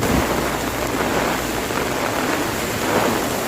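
Heavy rain from Typhoon Maring pours nonstop over Baguio City, a dense, even roar of falling water with no pauses and no voices.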